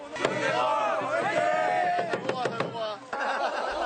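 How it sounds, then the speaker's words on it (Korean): Junior students shout and cheer loudly for older schoolmates arriving at a Korean college entrance exam site on a freezing early morning. Several voices rise in rhythmic chants, with a few sharp knocks and claps mixed in. "잔뜩 긴장한 선배들을 응원하는 후배들의 뜨거운 함성이 큰 힘이 됩니다"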